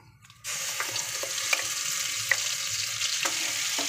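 Pea paste dropped into hot oil in a wok bursts into a sudden loud sizzle after a short quiet moment, then keeps crackling steadily with a few sharp spatula clicks, close up and with no talk.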